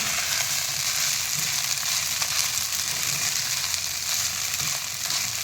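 Sabudana (tapioca pearls) stir-fried in a pan with the gas turned off, giving a dense continuous sizzle and the rustling scrape of grains being turned.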